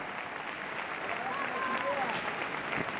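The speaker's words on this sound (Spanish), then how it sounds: "el público que vemos cómo despide con aplausos a un jugador" Spectators at a clay-court tennis tournament in Barcelona applaud steadily as a player leaves the court, with a commentator talking over the clapping.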